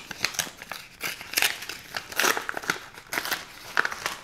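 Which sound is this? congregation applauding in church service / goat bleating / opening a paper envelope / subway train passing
opening a paper envelope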